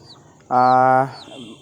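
Faint high peeps of Tiger breed chicks drift in and out, interrupted by one louder half-second bird call in the middle.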